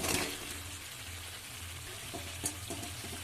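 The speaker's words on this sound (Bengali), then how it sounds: "এবার দিয়ে দেবো কেটে রেখার লাউগুলো" Chunks of bottle gourd dropped into spice paste frying in a pan, giving a steady sizzle with a few soft stirring knocks and clinks, close by and with no talking.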